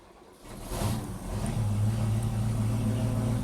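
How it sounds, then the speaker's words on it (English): Porta-Bote outboard motor on the starboard side starting up after sitting unused for two weeks, a quick pull and catch settling into a steady, close idle drone, with no talking. "The motors haven't been run for about 2 weeks now, so I'm going to start those guys up."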